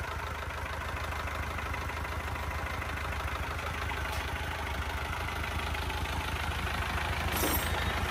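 Isuzu 4KH1 diesel engine running at a smooth, steady idle nearby, a constant even rumble with no speech over it.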